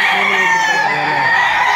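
A Lemon 84 gamefowl rooster lets out a loud, close crow that fills the whole short moment, steady and sustained with no talking over it.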